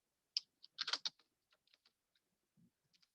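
Computer keyboard keys tapped in a short irregular burst, a quick cluster of crisp clicks followed by a few sparse, fainter keystrokes, close and alone with no voices.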